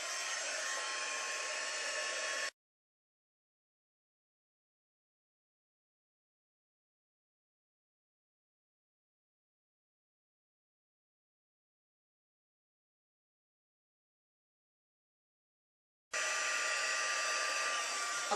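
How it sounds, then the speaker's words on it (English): A heat tool blows hot air to set embossing powder on a card, a steady close whirring roar that runs for a couple of seconds, stops for a long silence, then starts again. "now we're going to use the heat tool to heat set the embossing powder"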